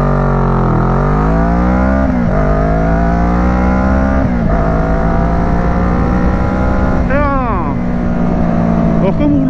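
A 2012 Kawasaki ER6N motorcycle, restricted to 35 kW, accelerates hard from standstill to 100 km/h, its engine rising steadily in pitch through several gear shifts with brief dips between, loud and close under wind noise.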